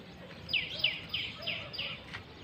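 Several bright bird chirps repeat in a quick series over a soft outdoor background hum on a village morning, moderately close.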